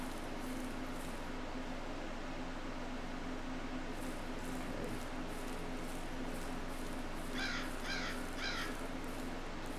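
Crows cawing in the survival shooter video game Zero Sievert, a short burst of three harsh caws standing out faintly over a constant hissing game ambience with a low hum.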